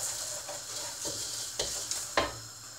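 Oil-coated quinoa grains are stirred around a frying pan, giving soft scraping strokes over a quiet, steady sizzle. A few sharper scrapes come near the end, close and fairly faint.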